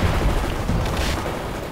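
Tank battle over a bridge in a war video game with M1 and M60 tanks: a dense, loud, continuous barrage of gunfire and booming blasts, heavy in the low end, with no talk.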